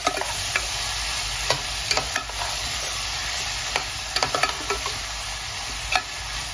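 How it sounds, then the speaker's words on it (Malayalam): Raw plantain and green chilies fry in a hot pan with a steady sizzle, while a utensil stirs and scrapes through them in scattered clicks and knocks, close and alone without talk. "പിന്നെ നമ്മൾ ഇളക്കി കൊടുക്കാം."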